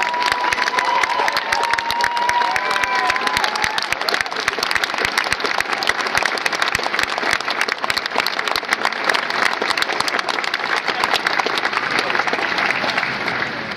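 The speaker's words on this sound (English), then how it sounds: "let's give all of our competitors a round of applause for a job well done." A large crowd at the 2009 Sandhurst Competition award ceremony at West Point applauds the competitors, loud continuous clapping mixed with cheers and shouts that stays strong the whole time.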